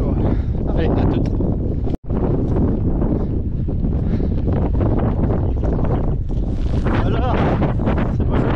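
Cold mountain wind during an ultra trail race, roaring hard and buffeting right at the microphone almost without pause, with someone talking through it.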